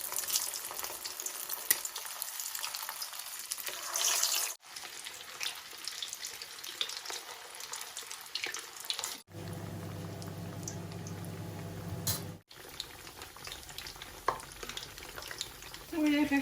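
Shami kebabs fry in hot oil with a steady, bright sizzle, broken by a few brief pauses, and a lower bubbling passage comes partway through.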